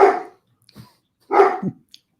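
A dog gives two loud, close barks, each followed by a short softer yelp, in an otherwise quiet room.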